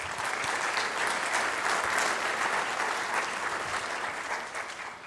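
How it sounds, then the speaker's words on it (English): A town hall audience bursts into sustained applause, many hands clapping together in a dense, even roar from a roomful of people, holding steady for several seconds before easing off slightly at the end. "Yeah, how about applause for that?"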